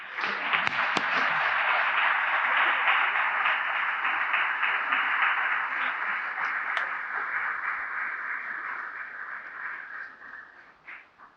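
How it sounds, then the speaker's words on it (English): Audience applause for Mayor Bill Bogaard and Claire Bogaard at a courtyard dedication at Pasadena City Hall, a dense, steady wash of clapping that holds for about ten seconds before thinning out at the end. "Let's have a round of applause, please."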